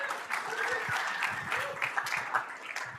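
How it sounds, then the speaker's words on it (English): An audience in a meeting room claps steadily throughout, a moderately loud wash of applause with scattered sharper individual claps. "so give him a big round of applause"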